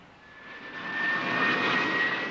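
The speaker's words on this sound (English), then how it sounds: "The jet car looks good and sounds better" A jet car with a 7,500-pound-thrust engine roars loudly and steadily, the whine and rush swelling over the first second and then holding strong, with no voices.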